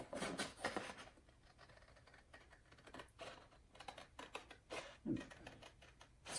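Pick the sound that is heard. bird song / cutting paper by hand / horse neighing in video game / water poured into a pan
cutting paper by hand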